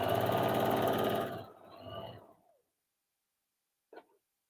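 A sewing machine stitches a folded fabric seam with a steady, close whirring run that slows and winds down, followed by near silence and one short faint click.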